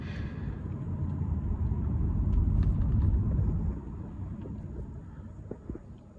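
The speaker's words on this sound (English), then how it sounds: "I am driving a Jag XKR" A 2006 Jaguar XKR with a supercharged 4.2-liter V8 drives along, a steady low engine rumble with road and wind noise that swells, then eases and quiets near the end.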